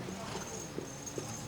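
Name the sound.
draft horse hooves clip-clopping, pulling a tandem cart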